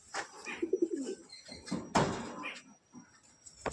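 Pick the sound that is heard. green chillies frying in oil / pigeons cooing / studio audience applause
pigeons cooing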